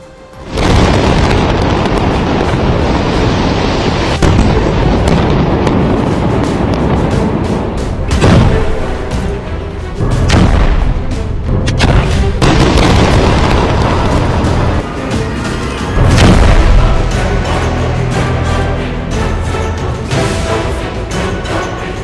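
Loud, continuous rumbling explosions from Israeli air strikes on Hezbollah positions in Lebanon, heavy booms rolling one after another with repeated sharp bursts, dense and sustained throughout.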